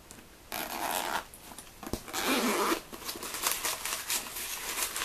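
Zippers on small bags being opened and closed by hand, several quick rasping zips close up with rustling of the bags in between, no talking.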